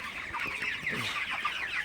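Broiler chickens cluck steadily at night in a poultry shed, a dense, continuous chorus of overlapping calls from many birds close by, with no talking.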